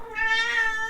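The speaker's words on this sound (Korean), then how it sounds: "고양이가 야옹거리네요." A house cat gives one clear, drawn-out meow up close, rising and then tapering off within about a second, with no speech over it.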